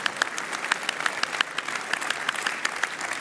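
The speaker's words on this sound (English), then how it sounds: "So we can applaud" Scattered, crisp hand claps from a modest audience at an honorary doctorate ceremony, with individual claps standing out in an irregular patter and no voices over them.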